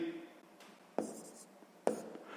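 Pen writing a sixth-grade math solution by hand on paper, short close scratching strokes with two sharp taps, quiet and without talk.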